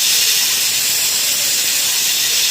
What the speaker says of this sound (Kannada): ಇದೀಗ 1 ವಿಷಲ್ ಕೂಗಿಸ್ಕೋಬೇಕು.